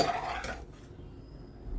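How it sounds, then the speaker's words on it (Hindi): A brief clatter and scrape of a utensil against a dish as cooked green apple jam is transferred onto a plate, followed by near silence. "यहाँ पर हम इसको प्लेट में निकाल लेते हैं या ट्रे में निकाल लेते हैं"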